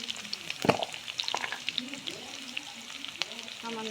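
Crushed garlic hitting hot oil in a pan alongside chillies and bay leaf, a close steady sizzle with stirring clatter and a brief louder clink near the start, with faint voice in the background.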